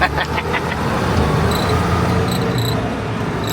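An old tractor drives along an English country road, its engine giving a steady, close, rumbling drone that holds even from start to finish with no talking.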